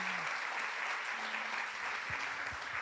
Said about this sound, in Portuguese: Você pode dar a Jesus o melhor aplauso dessa noite.